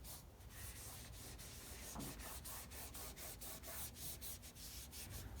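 A rag rubs linseed oil into faded car plastic, producing a close, continuous scrubbing and swishing with quick repeated strokes in a fairly even rhythm, heard alone.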